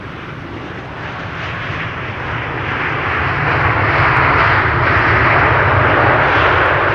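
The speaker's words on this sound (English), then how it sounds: "That's the 787-10 Dreamliner arriving from Cartagena in Colombia" A three-year-old Boeing 787-10 Dreamliner, registration PH-BKK, arriving at Amsterdam Schiphol on runway 27 after a long-haul flight from Cartagena, Colombia, with a broad steady engine roar that swells as the jet draws nearer and stays loud and continuous.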